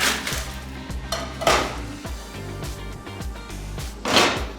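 Trader Joe's carrot spiral noodles go into a pan, bringing a few clanks and scrapes of metal cookware, with louder bursts near the start and end over a low background.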